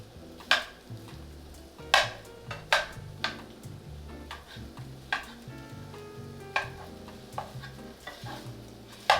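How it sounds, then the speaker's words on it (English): Firm tofu sautéing in a pan while a utensil breaks it apart, with a soft sizzle under repeated sharp scrapes and taps against the pan at irregular intervals, close up. "I'm just gonna saute this for 1 to 2 minutes. Okay? As I break it apart"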